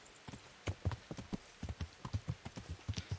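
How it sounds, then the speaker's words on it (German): Horse hooves clip-clopping in steady rhythm as a mount is ridden at night in the medieval game Kingdom Come: Deliverance, a quick run of close, distinct hoof strikes with an occasional faint whinny. "Irgendwo ist unser Pferd jetzt hingeritten, wo es nicht sollte."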